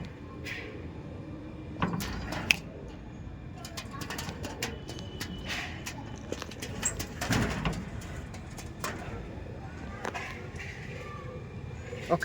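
Andhra pigeons of the Kalshira and Phulshira varieties coo softly and intermittently at close range, over scattered clicks, knocks and sliding clatter from their enclosure.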